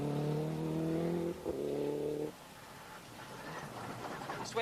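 A Toyota rally car on a 1995 Cork 20 Rally stage, its engine droning loud and steady with strong harmonics, dropping in pitch after a gear change, then quieter gravelly running with a brief high squeal at the end.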